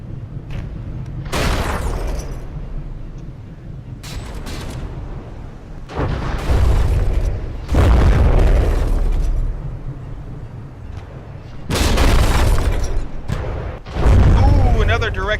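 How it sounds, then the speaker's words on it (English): Shells exploding against a ship's turret in the naval combat game From the Depths: several heavy booming blasts in irregular bursts, loud and close, with rumbling decay between hits. "Ooh, another direct hit to that turret"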